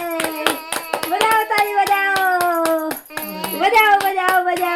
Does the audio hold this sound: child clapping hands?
yes